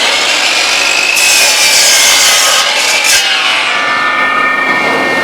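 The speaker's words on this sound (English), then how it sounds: "So line it up, bring the saw up, start it." A miter saw cuts straight through a piece of wood held against the fence, giving a loud, continuous buzzing rasp that lasts several seconds without pause, with no talking over it.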